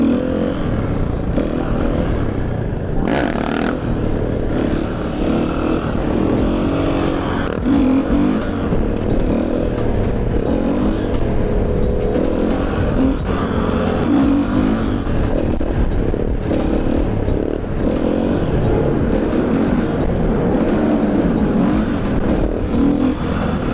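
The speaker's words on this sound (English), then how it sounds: "let's do some sunset wheelies." A Husqvarna FE450 supermoto motorcycle revving hard during sunset wheelies, its loud, close engine roaring steadily with repeated throttle surges throughout, no voices.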